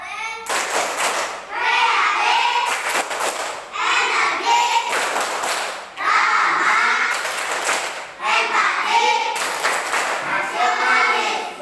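A class of primary-school children clapping in a rhythmic chant led by a girl, repeated bursts of sharp claps with loud voices chanting together, close and lively in a classroom.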